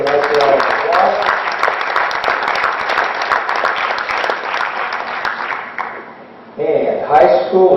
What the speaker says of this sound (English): Let's give all of our middle schoolers a nice round of applause.